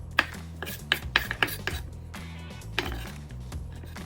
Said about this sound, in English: So I've got some nice hot banana peppers out here. I'm going to dice those up